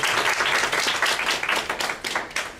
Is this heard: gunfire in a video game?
no